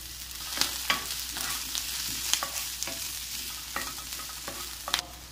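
Onions fry in olive oil in a pan for a homemade chicken pizza topping, a steady close sizzle broken by repeated sharp scraping taps as a utensil stirs them.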